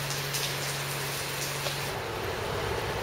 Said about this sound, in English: It's still raining in Cardiff.